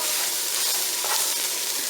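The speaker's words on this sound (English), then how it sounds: "Okay, your meat is nice and brown. Here it's sizzle." Ground beef crackling and sizzling as it browns in a hot pan, a continuous bright hiss with a brief louder burst midway.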